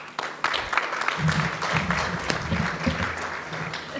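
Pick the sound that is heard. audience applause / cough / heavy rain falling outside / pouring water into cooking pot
audience applause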